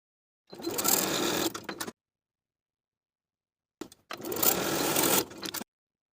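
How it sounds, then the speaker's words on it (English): A sewing machine stitches the full hem allowance along the folded placket edge of a shirt jacket, running in two steady bursts of about a second and a half each, separated by a few seconds of silence. "we're going to sew from the outer edge to the outer folded edge of the placket the full hem allowance of 1¼ inches"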